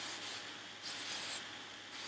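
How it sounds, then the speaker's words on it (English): Light hiss of hairspray misted over pin curls, two or three short bursts with a longer spray in the middle, close and alone. "So now what we're going to do is we're going to give them just a light spray."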